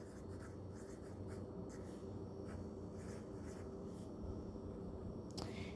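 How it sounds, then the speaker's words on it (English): A pen scratches out handwritten math notes in soft, quiet strokes under a faint steady background hiss, with no talking. "here I'm going to write operation"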